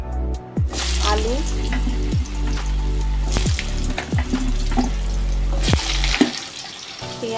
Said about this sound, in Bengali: এই তেলের মধ্যে কালো জিরে ফোড়ন দিয়ে দিলাম